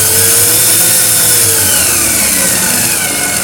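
An electric sliding gate drive motor whirs loudly and close as it is slowed by hand, a continuous buzzing drone with tones that drift in pitch.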